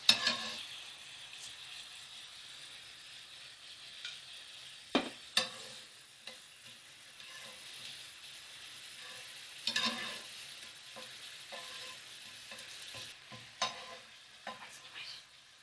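Steady sizzling and crackling of homemade chips frying in a pan, with occasional clinks and scrapes of utensils; no talking.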